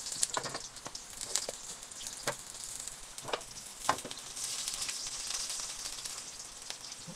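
Garlic and onion sauté in a pan for pork adobo sa gata, giving a steady crackling sizzle with scattered pops and the occasional stir, close by and moderately loud with no voices.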